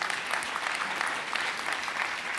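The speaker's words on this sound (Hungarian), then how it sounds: "Nagy tapsot arra is kérnék egyet." Theatre audience at a live comedy show clapping in a continuous, even patter of many hands, moderately loud and sustained throughout, with no voices over it.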